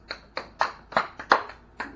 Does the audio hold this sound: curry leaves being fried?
no